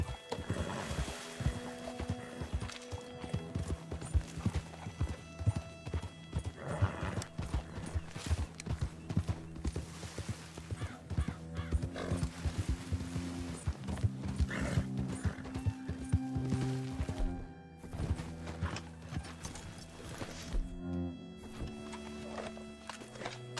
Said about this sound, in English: My horse needs food.